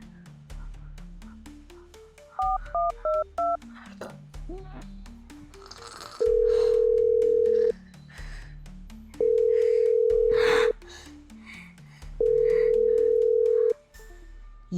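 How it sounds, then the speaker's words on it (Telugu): A telephone being dialed in a Telugu village comedy horror skit: repeated sustained dial-tone bursts alternate with short keypad beeps and rising-falling electronic tones, loud and close, with no talk over them. "అర్జెంటుగా రమేష్ గారికి ఫోన్ చేయాలి."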